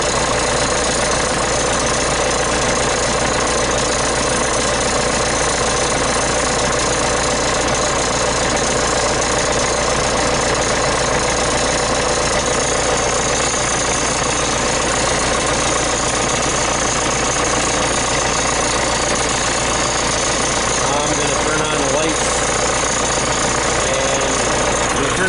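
A John Deere 6400 tractor engine runs steadily at a constant idle-like pace while its alternator carries a heavy electrical load, a dense, even mechanical drone with a knocking undertone that does not change over the whole stretch.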